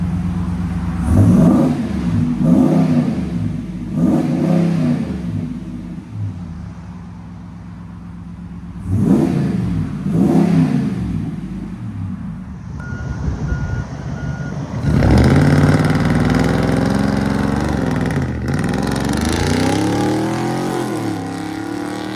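Loud, close revs from a RAM 6.4L V8 with a Borla dual X-pipe exhaust: several sharp blips rise and fall in bursts, then a longer, harder rev swells near the end over the idle.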